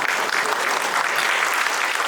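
An audience at a film event in Kerala claps together, a dense, fairly loud burst of applause that stays steady for a couple of seconds without voices on top.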